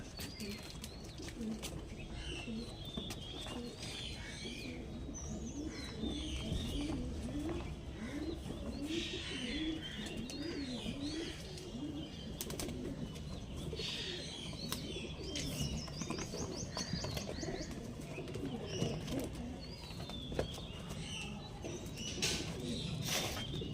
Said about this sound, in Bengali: আচ্ছা, চলুন পায়রাগুলো ছাড়িয়ে এক করে